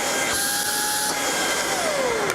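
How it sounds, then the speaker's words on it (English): A cordless vacuum cleaner runs steadily nearby with a constant whirring drone and high whine, with no talking. "I'm pretty sure I could actually probably turn on the vacuum."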